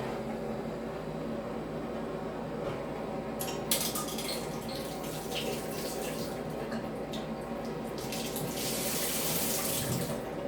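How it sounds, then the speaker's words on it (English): A garden water sprinkler under test sprays steadily with a constant hiss and patter of water, bursts of brighter splashing rising midway and toward the end, with no talking. "let's just test one and see how well they work"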